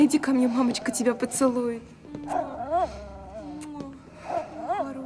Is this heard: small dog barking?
yes